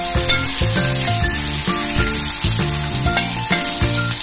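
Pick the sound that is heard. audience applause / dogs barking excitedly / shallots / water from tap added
shallots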